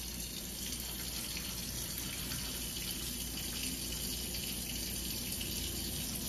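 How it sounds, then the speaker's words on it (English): Rice being washed under a running kitchen tap, a continuous even hiss of flowing water with no pauses or voices for over six seconds. "Please wash your rice, okay? It's very important that you wash your rice."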